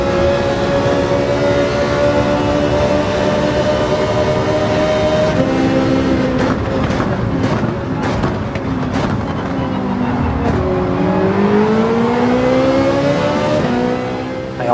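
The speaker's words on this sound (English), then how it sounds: "After excellent recovery laps in clean air, I found myself in a drag race with the Porsche" Racing game cars in a side-by-side drag race with a Porsche, engines droning steadily at high revs, with pitch shifting down and climbing again as gears change, loud and continuous throughout.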